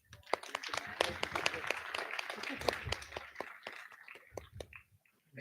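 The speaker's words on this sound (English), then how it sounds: "Can we please have a round of applause?" Conference session audience clapping, a scattered round of distinct hand claps at moderate distance, thinning out toward the end, with voices murmuring underneath.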